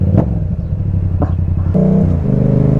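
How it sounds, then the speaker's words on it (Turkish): A motorcycle's loud exhaust revs up close in a few sharp bursts over a heavy, continuous engine rumble, with no talk. "Egzozumuz bağırıyor ya."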